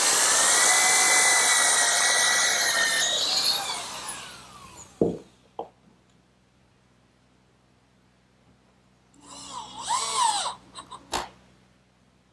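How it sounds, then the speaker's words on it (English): A power drill whines at high speed for several seconds while pre-drilling pilot holes in hardwood, winds down with a few knocks, then a second short burst of drilling follows. "I'm going to pre-drill the holes"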